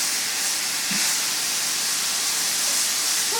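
Breakfast sausage cooks in a pan with a constant broad hiss and sizzle, close and even throughout, with no speech heard.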